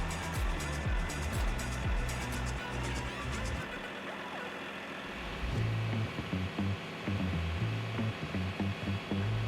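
Vermeer low speed shredder running with its magnetic conveyor lowered: a heavy, loud continuous diesel-machinery drone with rumbling low grinding that dips briefly midway before surging again.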